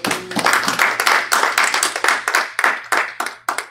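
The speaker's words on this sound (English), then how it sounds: "Clap your hand for Jesus Christ" Congregation clapping hands in unison during a church sermon, loud rhythmic claps in quick regular bursts, close and steady with a faint low hum beneath.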